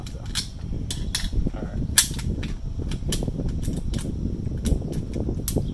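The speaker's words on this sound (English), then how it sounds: "First, I need the magazine out, though." Crisp metallic clicks and snaps come from a late-war Walther P38 pistol as its magazine is worked out, close and irregular over steady room noise, with a brief spoken phrase.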